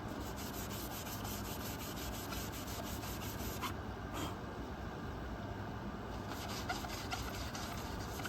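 Continuous rubbing of 120 grit sandpaper scrubbing surface rust off black metal rails between rivets, a steady close abrasive hiss with rhythmic strokes throughout.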